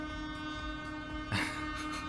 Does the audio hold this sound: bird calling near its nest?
no